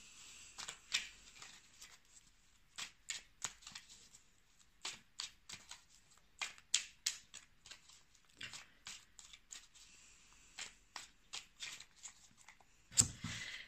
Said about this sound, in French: Alors, je vais tirer trois cartes.